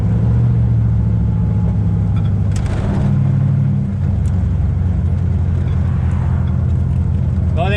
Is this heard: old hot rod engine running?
yes